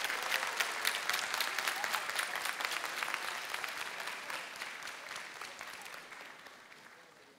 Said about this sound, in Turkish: Biz de jürimizi alkışlayalım değil mi?